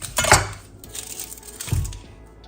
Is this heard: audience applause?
no